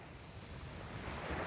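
Broadband ocean surf washes steadily onto a sandy beach, a continuous rushing roar that swells slightly toward the end, with some wind noise on the microphone and no voices.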